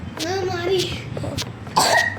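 A few short coughs and hiccup-like bursts from the video game Evil Grandma's Prison Cell, sharp and close, alongside a childlike voice.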